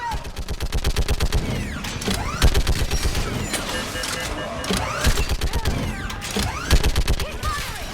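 Rapid sustained gunfire from a Mass Effect 3 firefight on a bridge, dense bursts of automatic shots with sharp cracks and mechanical clatter, loud and continuous, mixed with game effects and shouted voices.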